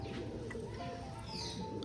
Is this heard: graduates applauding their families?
no